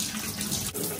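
Hot water runs from a shower head through a funnel into the inlet of a Giantex/Costway portable mini compact twin tub washing machine, a steady close hiss of flowing water with a brief dip near the end.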